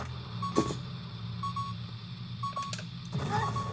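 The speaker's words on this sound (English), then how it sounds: "the famous Zelda beeping sound, the low health" Short electronic beeps repeat at a steady, spaced interval over a constant low hum, the low-health warning tone in The Legend of Zelda: Ocarina of Time.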